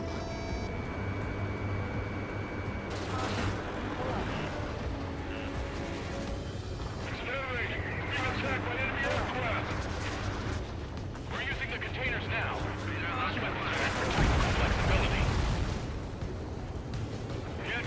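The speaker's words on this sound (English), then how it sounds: "Anti-air guns aimed right at us." Anti-aircraft gun fire during an Ace Combat 7 air mission, a steady rumbling barrage of bursts and booms under jet engine roar, swelling louder near the end.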